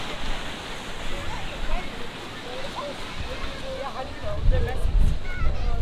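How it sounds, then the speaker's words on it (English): Ocean surf rolling in at Myrtle Beach, a broad steady roar of breaking waves with wind, swelling louder and deeper toward the end, heard from the shore at moderate distance. "It's still one of my favorite noises, just the crash of the ocean waves."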